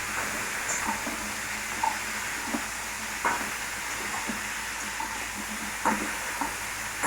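Cauliflower pieces frying in a pan, a soft continuous sizzle with occasional light clicks and taps from stirring, fairly quiet and close with no talk.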